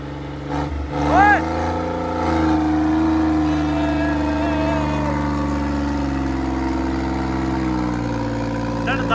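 A tractor engine runs loud and close, revving in a steady low rumble with a rising and falling pitch, while voices talk over it.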